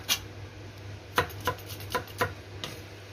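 Knife slicing garlic on a cutting board, heard as a handful of soft, sharp taps spaced irregularly over a low steady hum, close and quiet.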